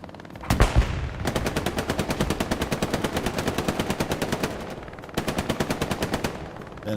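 Machine gun fire in the Hell Let Loose World War II shooter game, heard as a sharp shot, then two long rapid bursts of evenly spaced rounds with a brief pause between them, loud and close with no talking.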